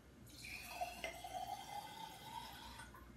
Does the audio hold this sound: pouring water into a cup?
yes